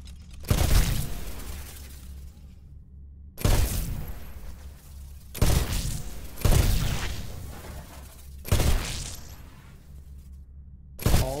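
Weapons fire at shooting range targets in the Titanfall video game in five loud separate bursts of sharp, crackling shots with shattering impacts, each trailing off into a decaying echo over a low hum.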